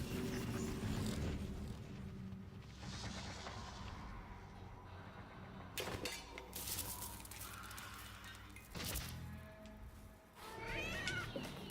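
A cat meows in a game trailer, with a few distinct cries over music and effects, while a voice talks over parts of it.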